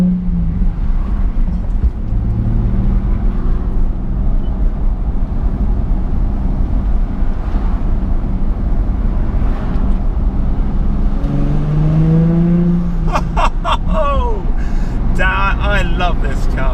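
A Nissan 350z engine revs inside a tunnel, a loud, steady rumble that echoes throughout, with voices talking over it near the end.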